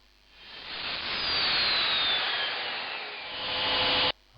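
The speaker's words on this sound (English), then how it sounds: "Some test cuts on some melamine board now." A Rutlands mid-range track saw making a test cut through melamine board, a loud close whining rip that builds, holds steady for several seconds and then cuts off sharply.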